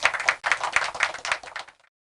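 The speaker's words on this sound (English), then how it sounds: "One more round of applause for Mr. Clark West." Applause for a guest on a podcast, a short run of rhythmic clapping in quick bursts, fairly close, ending abruptly into silence.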